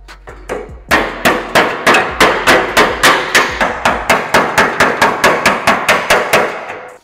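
Hammer blows on dented sheet metal backed by a dolly during panel repair, a steady run of about twenty sharp, ringing metallic strikes at an even rhythm, loud and close with no talking.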